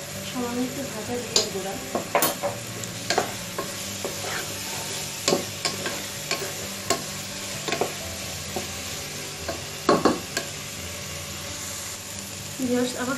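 Mixed vegetables with green chillies sizzle steadily in a pan while a utensil scrapes and knocks against it at irregular intervals, close up, with a voice talking now and then.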